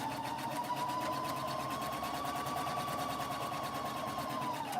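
A sewing machine stitches the seams of a pink baby quilt, a fast, even mechanical whir with rapid needle clatter, running steadily and close by without pause.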